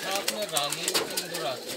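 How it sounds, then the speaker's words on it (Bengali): Kuka pigeons coo at a deshi pigeon farm, a close, soft run of low rolling coos with faint chatter of people in the background. "ভালোই তো কুকা ডাকছে তো ভালো, প্রচুর ডাক"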